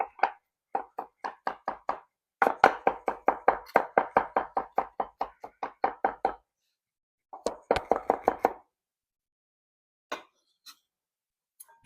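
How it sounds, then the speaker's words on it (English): A knife roughly chops vegetables on a cutting board in fast runs of sharp, close knocks, pausing briefly between bursts before a few last scattered taps. "Just a rough chop."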